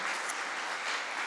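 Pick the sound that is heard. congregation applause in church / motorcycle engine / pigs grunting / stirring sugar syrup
congregation applause in church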